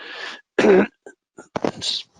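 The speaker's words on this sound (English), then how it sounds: "Sorry about this cough." Several harsh, throaty coughs come in quick bursts, close and loud, with short silent gaps between them.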